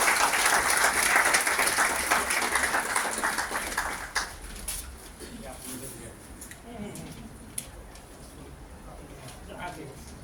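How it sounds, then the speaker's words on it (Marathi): Loud applause from an audience at a book release ceremony rings out strongly for a few seconds, then fades into scattered claps as a voice begins speaking. "एकदा जोरदार टाळ्या होऊन जाऊया"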